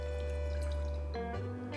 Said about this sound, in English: Place a pot on the stove and pour in 110 grams of soy milk